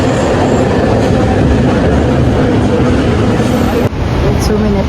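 A train rumbles through a station, a loud, close, continuous rolling roar with rattling wheels, ending with a sudden high hiss or squeal near the end, with people talking over it.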